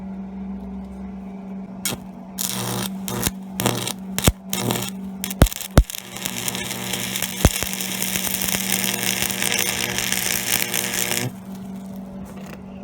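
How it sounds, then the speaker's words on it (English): Stick welding on metal with a Lincoln stick welder: an initial burst of sharp crackling pops and snaps as the arc strikes and sputters, then a steady, loud frying hiss that continues before cutting off abruptly, with a faint background hum. "Let me do a little welding and see what happens."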